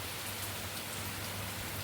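Heavy monsoon rain pours down steadily in Raebareli, India, a dense, continuous wash of falling water close by with no voices over it.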